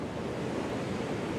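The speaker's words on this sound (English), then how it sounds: "So I thought we've got to come and see this waterfall here." Powerful rushing waterfall, a dense, steady roar of falling water heard close and loud with no pauses or voices.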